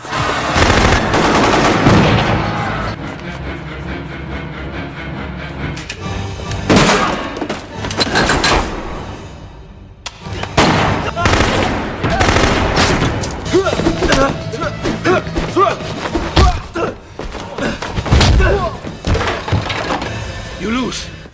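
A film shootout brings bursts of gunfire and machine-gun rattle, sharp cracks and splintering impacts throughout, loud and dense, with talk running under the action.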